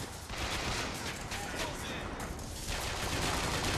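Rapid gunfire from a Bioshock Infinite firefight, a dense, loud burst of shots that carries on without a break for several seconds.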